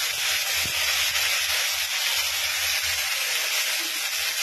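A spice paste hits a hot kadai of fried chicken for butter chicken, giving a loud, steady steam-like hiss and sizzle that fills the whole stretch with no talking.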